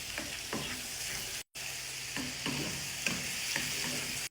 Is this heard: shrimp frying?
yes